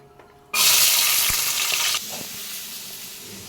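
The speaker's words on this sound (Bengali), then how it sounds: "এখানে সবজি ভাজা চলছে" A sudden loud sizzle as food hits hot oil, hissing strongly for over a second before settling into a quieter, steady frying crackle.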